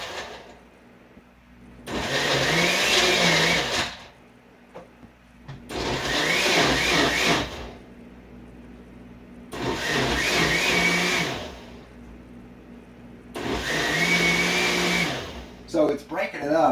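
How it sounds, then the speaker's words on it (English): A Dynablend high-speed blender blends a coconut, almond, banana and Medjool date smoothie in four pulsed bursts, each a loud roaring whir of about two seconds, with quieter gaps between. "we'll put it on our Dynabland high-speed blender here"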